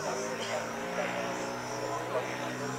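A radio-controlled model airplane at a model aircraft meeting at Bahno airfield, Frýdek-Místek, drones steadily through an aerobatic spin and slow descent, its engine tone swelling slightly as throttle is added, with a commentator talking over it.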